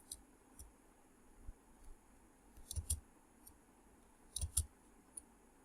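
Sparse mouse clicks in a quiet room while a macro is assigned to a button in Excel: isolated soft taps plus two close double-clicks, each a crisp, near tick.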